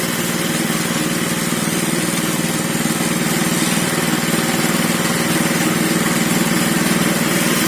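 A self-propelled farm cutting machine's engine runs steadily and loud throughout, a continuous mechanical drone with a lawn-mower-like buzz and no voices.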